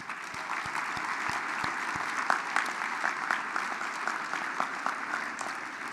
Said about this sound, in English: Let's offer one more round of applause for all of these directors and rotators